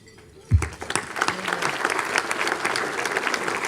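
Applause from a dinner crowd at the CTBUH annual awards dinner starts abruptly and continues as dense, fairly close clapping that stays steady to the end.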